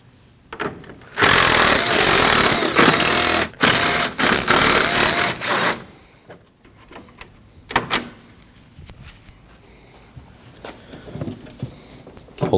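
A power tool runs in loud, sustained bursts while taking out six 10mm bolts along the front bumper of a 2015-2024 Ford Edge, followed by quieter clicks and handling noises.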